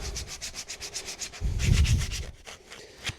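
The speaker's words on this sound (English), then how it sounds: "when you sand things" Sandpaper rubs back and forth over wood in rapid, rhythmic strokes, close and fairly loud. A heavier, fuller scrubbing pass comes in about midway, then the strokes turn lighter and more sporadic, with no voices.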